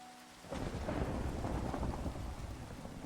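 Thunder from a nearby lightning strike in a survival video game crashes in as a loud, sustained rumble with heavy rain, alone without talk.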